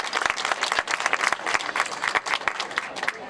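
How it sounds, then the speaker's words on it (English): An outdoor crowd at the 2009 Putnam County Heart Walk claps together, a lively burst of many hands with some individual sharp claps standing out, sustained at even strength throughout. "Let's give a round of applause for Putnam County."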